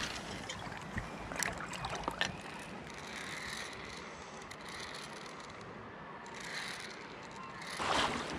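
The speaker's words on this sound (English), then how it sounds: "I have to go through one last pretty bad set of rapids." A small boat runs through short river rapids, with rushing, splashing water and wind noise throughout, a few sharp bumps and knocks, and a louder surge of spray near the end.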